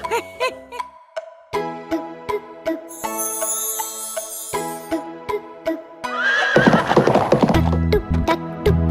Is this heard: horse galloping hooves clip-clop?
yes